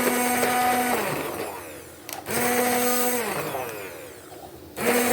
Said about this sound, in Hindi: इस मौके पे मैं हैंड ब्लेंडर का इस्तेमाल करती हूँ, ताकि वो देखेंगे इनका थोड़ा सा दाना भी टूट जाएगा